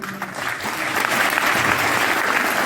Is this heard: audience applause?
yes